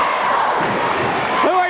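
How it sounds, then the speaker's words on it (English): Crowd at a 1987–88 high school basketball game between Gate City Blue Devils and Castlewood, a sustained roaring chant of "Devils" from packed stands, loud and continuous, with a commentator talking over it. "Now both sides chanting devils."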